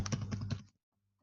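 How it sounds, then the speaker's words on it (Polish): A quick close burst of keystrokes on a computer keyboard while an ID number and password are typed, lasting well under a second before quiet. "wpisuję swój numer ID i wpisuję swoje hasło."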